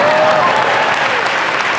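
Steady audience applause fills the whole stretch, dense and even with no break, loud and close, a faint tonal line running underneath.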